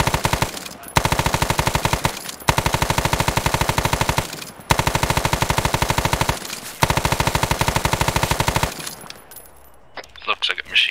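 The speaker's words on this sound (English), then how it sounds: "Looks like a machine gun. I'm getting hit by a machine gun" Rapid machine gun fire rings out in an Arma 3 campaign battle, in four long, loud, evenly paced bursts separated by short pauses, followed by quieter scattered noises.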